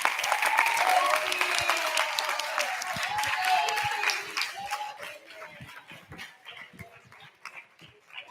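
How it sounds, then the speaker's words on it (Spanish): Applause from the audience at a BCNspiracy 2018 talk, loud and dense at first, thinning into scattered claps as it fades, with voices murmuring underneath. "un aplaudiment molt fort"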